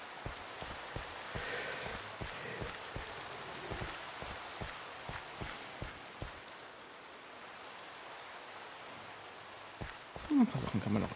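Steady rain hiss falls in Minecraft, with a run of sharp rhythmic clicks or taps over the first six seconds and a brief louder cluster near the end.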